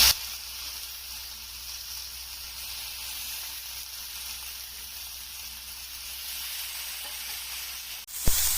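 Pineapple slices sizzle in butter on a hot dosa griddle, with a steady close frying hiss and a brief clatter near the end.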